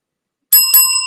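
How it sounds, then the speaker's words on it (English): A bright bicycle-style bell, rung as a sound effect, dings twice in quick succession after a moment of silence, loud and close, with the second ring left to fade out. "I'll give you some bells for that"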